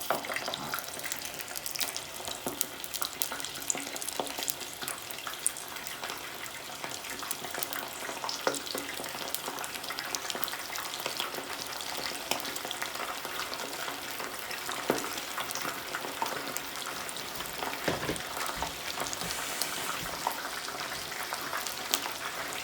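Cornstarch-coated shrimp fry in hot oil, giving a steady, crackling sizzle throughout with scattered sharper pops and occasional stirring clatter, fairly close and no talking.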